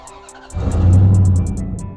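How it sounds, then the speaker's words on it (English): A 2004 Dodge Dakota pickup with 122,000 miles revs its exhaust: a quiet idle, then a loud deep surge of engine roar held for about a second before easing back down, heard alone. "Little exhaust clip."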